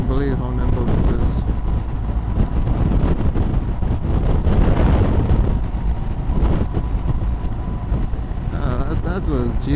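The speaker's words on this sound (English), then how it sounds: "The wind's blowing me, but the bike is just plowing through." Wind buffets the microphone while riding a 2019 BMW 1250 GSA motorbike with low suspension and low seat, a loud continuous rumbling roar with engine drone beneath, and someone talks over it throughout.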